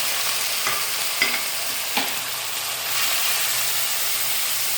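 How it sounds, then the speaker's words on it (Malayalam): Beetroot sizzles in a pan with onion, curry leaves and dried chilli while a spoon stirs it, giving a steady hiss broken by three or four short scraping strokes. "ഉള്ളി, കറിവേപ്പില, ഉണക്കമുളക് മിക്സ് ചെയ്ത് ബീറ്റ്റൂട്ട് ചേർത്ത് കൊടുക്കാം."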